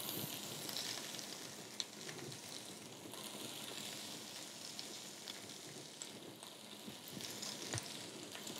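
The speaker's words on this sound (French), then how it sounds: "On va pouvoir ajouter notre garniture aromatique. Donc on commence par les oignons et carottes." Onions and carrots fry in a pan as part of an aromatic base for roast pigeon, giving a steady, fairly faint sizzle with scattered small crackles and an occasional stir, with no voices.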